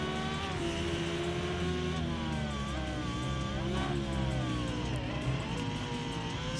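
A motorcycle engine races in the Ride 2 video game, holding a high, continuous whine with rising and falling pitch as gears shift, loud and alone without talk.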